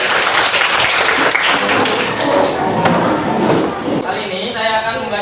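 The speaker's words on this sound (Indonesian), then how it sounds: "tepuk tangan" A classroom of students claps in applause, a dense burst of hand claps that carries on for several seconds before thinning out, with voices mixed in.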